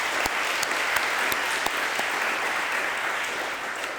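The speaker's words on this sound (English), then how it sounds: "So just a round of applause for our public works crew, for the school district, for the volunteers." Audience applause at a city's State of the City address, even continuous clapping across the room with a few sharper, closer claps standing out near the start.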